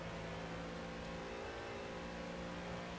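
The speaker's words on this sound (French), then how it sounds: "le moteur de la l'Aston Martin qui respire particulièrement bien avec les setups euh, qu'on lui a imposés" An Aston Martin race car engine in the Project CARS racing game, a steady sustained drone with even harmonic tones, fairly quiet and continuous, no voices.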